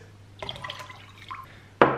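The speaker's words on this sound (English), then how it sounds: "I will just add some water like this" Water poured into a home aquarium holding blue crawfish gives a few soft trickles and drips, then a brighter splash near the end, close and fairly quiet.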